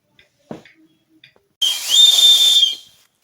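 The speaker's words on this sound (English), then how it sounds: "Forgot I had the whistle in here." A whistle blown once, a loud, sustained shrill tone lasting about a second, preceded by a few faint handling knocks on an outdoor walk.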